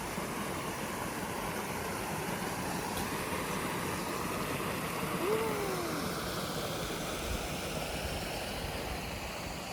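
A mountain forest stream flows in a steady, soft broadband rush that stays even throughout, with no voices over it.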